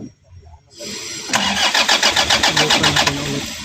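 A Toyota Hiace 2KD diesel engine cranks steadily with a rapid, even rhythm of about a dozen loud starter pulses, but it never catches and runs.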